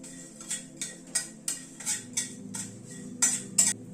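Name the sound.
stirring asafoetida with cumin and fenugreek in hot oil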